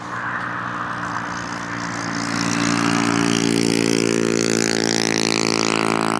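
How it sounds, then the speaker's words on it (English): A Learjet business jet taxis out for departure at Cleveland Hopkins Airport, its steady jet engine whine building louder from mid-clip with rising tonal harmonics, close by and unbroken, with no voices. "Got a Learjet taxiing out for departure, is heading out to Sanford."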